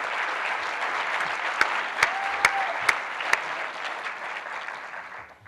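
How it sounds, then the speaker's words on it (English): Awards ceremony audience claps for panelists and a moderator, a steady wash of applause with a few sharp, close claps standing out, tapering off gradually near the end. "please give our panelists and our moderator another round of applause."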